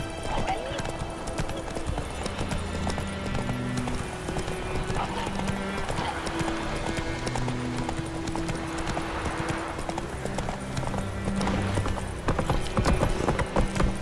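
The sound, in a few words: horse Roach galloping in video game The Witcher 3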